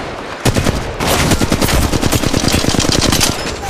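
Sustained automatic gunfire rattles in rapid, dense bursts from an enemy squad in Apex Legends Mobile, loud and close, beginning after a short quiet lead-in and continuing to the end with no talking.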